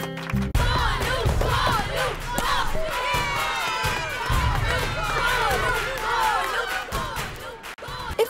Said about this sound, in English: If Arjun is batting, why are we cheering for Golu?